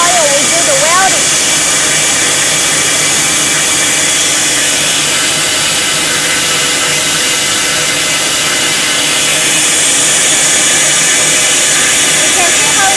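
Steel tube being welded on a 32 mm diameter tube mill production line gives a loud, steady hiss and roar of industrial machinery that runs continuously throughout, with faint tonal whines over the noise.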